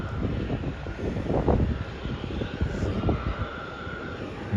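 Airliner at Melbourne Airport, a long-haul flight in from Singapore, heard as a steady broadband engine roar with rumbling wind buffeting, moderately loud and continuous throughout, with no talk.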